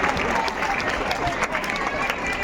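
An audience at a school prize function claps for award-winning students, a steady wash of applause with talking and crowd murmur running underneath.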